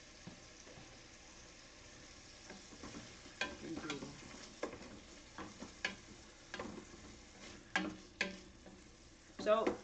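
Potato crisping in a hot pan, a soft continuous sizzle close by with intermittent crackles and scraping clicks of stirring that grow sharper toward the end.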